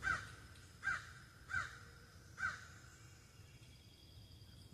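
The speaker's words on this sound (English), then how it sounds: "My morning crow." A crow caws four times in the morning, evenly spaced sharp calls standing out at moderate distance over a low, steady background hum.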